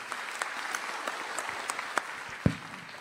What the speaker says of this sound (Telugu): గట్టిగా చప్పట్లు కొట్టి వీళ్ళని కూడా అభినందించారు